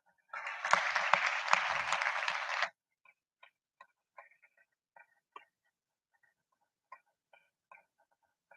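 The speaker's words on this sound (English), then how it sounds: "Please stand up and give them warm applause." Warm audience applause in a hall during a speech contest, a dense burst of clapping lasting about two seconds, then stopping abruptly and leaving only scattered faint clicks and rustles.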